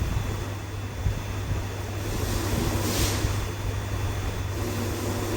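Steady bubbling and hissing of caramel boiling in a pan for pudding, continuous and fairly loud, with a low hum underneath throughout.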